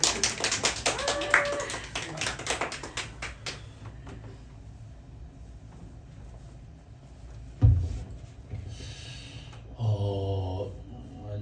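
A church revival audience claps briefly in a fast burst of overlapping hands, then fades into a quiet room with a single thump and a few soft voices talking near the end.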